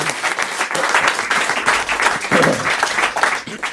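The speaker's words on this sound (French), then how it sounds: "On les applaudit, on les applaudit." Studio audience applause on a French radio comedy show, a dense, steady burst of many hands clapping close up for nearly four seconds without a break.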